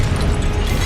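A Confringo explosion spell blasts in Hogwarts Legacy, a loud, dense, rumbling boom that fills the whole moment with heavy low-end roar and crackling noise.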